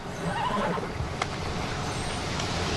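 A horse on a riverside pasture whinnies once, faintly and briefly, amid steady broadband outdoor noise with a distant hint of traffic.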